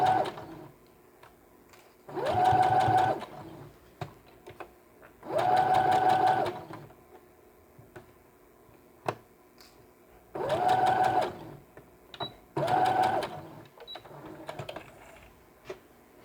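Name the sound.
sewing machine stitching doll shoes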